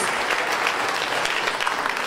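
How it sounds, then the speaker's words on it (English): A crowd at a Brooklyn tribute evening honoring the Jamaican reggae group the Mighty Diamonds breaks into dense, steady applause, a loud, continuous wash of many hands clapping at once without a break. "they deserve a round of applause for their persistence and their perseverance"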